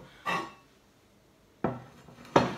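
An ovenproof baking dish is picked up and set down on a kitchen counter while meat is prepared for roasting, making three short, close knocks and clatters of ceramic or glass spread across a quiet moment.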